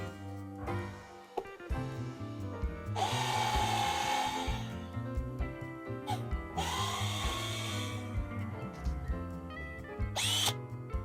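Power drill driving a screw extractor counterclockwise into a stripped hinge screw on a small wooden jewelry box, two long whining bursts between quieter motor hum and clicks, close and clear.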